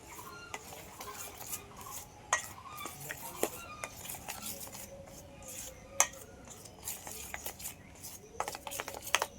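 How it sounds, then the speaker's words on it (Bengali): A utensil stirs a jackfruit and mango patishapta batter in a bowl up close, giving repeated clinks and scrapes against the bowl that speed up and grow busier toward the end. "এবার সব একসাথে একটু ভালো করে এইভাবে মিশিয়ে নেব"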